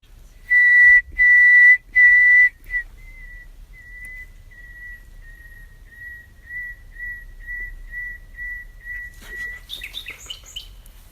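A human whistles three loud steady notes, then a nightingale answers with a long series of thin repeated tones matching the same pitch, ending in a burst of varied chirps from the bird.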